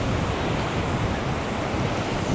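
Ocean surf washes steadily onto a long Gold Coast beach in a continuous loud, hissing roar, close by, with wind buffeting the microphone throughout.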